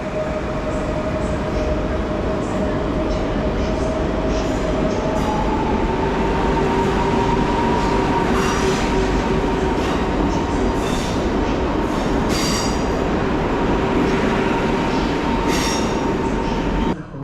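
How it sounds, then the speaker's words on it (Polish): Koleje Mazowieckie Elf electric multiple units running as the airport train from Modlin to Chopin at Warszawa Centralna station, a loud continuous rumble of rolling stock with faint wheel squeals and a steady hum, and no voices heard. "Przed nami dwa elfy kolei mazowieckich jako pociąg lotniskowy z Modlina na Chopina."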